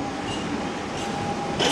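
A small three-carriage underground train on London's Waterloo and City line, a steady loud rumble and roar of wheels in the tunnel with a faint squeal, rising near the end.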